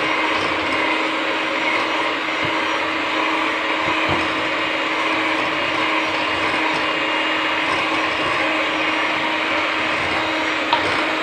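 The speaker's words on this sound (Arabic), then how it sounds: "دابا غادي نحبسوا من الطراب الكهربائي" An electric mixer beats cake batter in a bowl, producing a loud, steady motor whine and whirring that runs unbroken from start to finish, with no speech over it.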